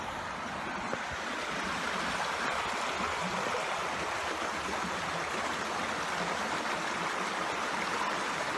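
Redfish Creek, a river where salmon run, rushing steadily in a dense, continuous broadband roar of flowing water, close and unbroken throughout.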